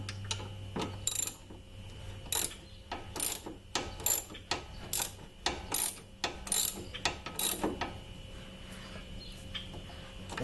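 Ratchet tightening the drive belt tensioner pulley on a 2005 Kia Sedona, a run of sharp metallic clicks in uneven bursts with short pauses, close and fairly quiet over a faint steady hum.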